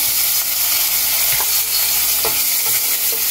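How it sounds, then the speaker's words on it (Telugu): Finely chopped garlic sizzling in a pan as Veg Manchurian sauce is started, a constant loud frying hiss with a few soft knocks of stirring, no speech. "ఇప్పుడు దీనిలో సన్నగా తరిగిన గార్లిక్ ముక్కలు వేసేస్తున్నాం"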